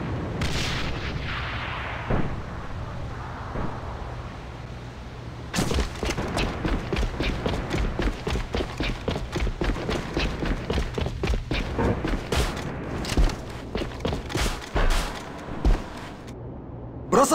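Gunfire and explosions in an M40 war game match between a public team and a clan, sharp near shots in rapid irregular bursts with booming blasts, loud and dense after a quieter start.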